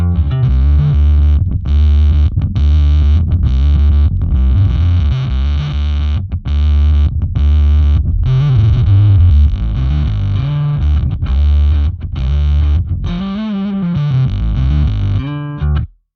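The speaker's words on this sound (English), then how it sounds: "our ultra distortion, which looks very much like the Dark Glass B7K" A bass guitar through an ultra distortion pedal modeled on the Darkglass B7K, playing choppy, heavily fuzzed metal riffs with abrupt stops and a bending note near the end, loud and alone.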